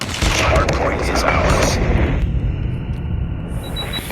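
Gunfire from the video game Call of Duty, a loud, dense stream of shots and booming blasts that fills the clip continuously with no pauses.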